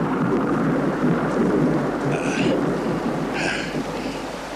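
Thunder in stormy weather, heard as a low, sustained broadband rumble with a steady wash of rain that swells and fades slightly across the few seconds.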